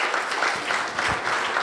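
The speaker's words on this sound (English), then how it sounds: "Give her a round of applause." Audience at a candidate town hall meeting applauding a moderator as she comes up, a short burst of steady clapping from a modest crowd.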